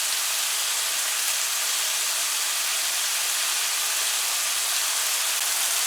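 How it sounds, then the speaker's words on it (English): Curry paste sizzles in a pot as it is stirred, a continuous, bright, hissing sizzle at steady loudness throughout, close and without talk. "So your curry paste you want to keep turning. Since there's not a lot of liquid in there,"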